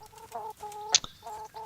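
Chickens cluck in a rhythmic series of short tonal calls in Kingdom Come: Deliverance, interrupted by one sharper squawk, fairly close and clear with no speech over them.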